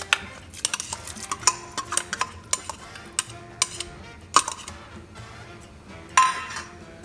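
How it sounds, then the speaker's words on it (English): Corn being added to vegetable stock in a pot for Mexican acorn squash soup, with a series of sharp clinks and scrapes of a utensil against the pot, irregular and close, and no talking. "So now to this I'm going to add some corn."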